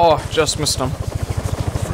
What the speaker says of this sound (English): Chopper's going.